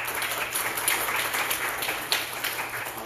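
Church congregation applauding during an Easter service at a Baptist church, a sustained, even wash of many hands clapping, moderately loud and filling the room for several seconds.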